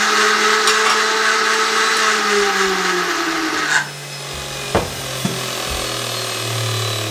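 Blender mixing a yogurt, mint and lemonade sherbet, close and loud, whirring steadily at high speed before winding down with a falling pitch as the motor slows and stops.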